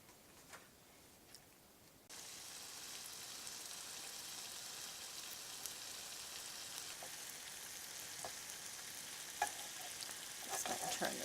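Tortellini fry in a hot pan, a faint quiet start giving way to a steady, even sizzle with scattered light pops and ticks.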